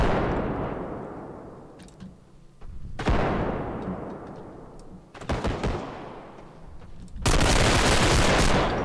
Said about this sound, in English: This is an MP5. Yeah, the recoil's just crazy